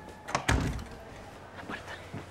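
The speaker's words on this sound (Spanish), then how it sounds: "La puerta, Ceci." A door closes with a solid, close thud, followed by a couple of fainter knocks and rattles as it settles.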